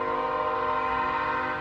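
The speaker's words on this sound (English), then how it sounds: "So please excuse the train." A passing train sounds its horn in one loud, sustained, steady blast held for the whole moment, with a low rumble beneath and no talk.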